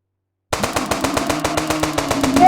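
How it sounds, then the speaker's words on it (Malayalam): A rapid burst of video-game gunfire while hunting wild bison, evenly spaced sharp shots in quick succession, loud and close, with no talking. "ഇവനെ തന്നെ ആദ്യം നമുക്ക് വെടിവെക്കാം."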